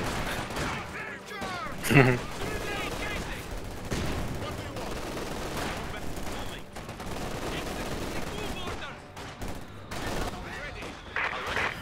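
MG42 machine gun fire in the video game Company of Heroes 2: dense bursts of rapid gunfire mixed with other battlefield shots and blasts, continuing throughout with voices heard intermittently over the combat.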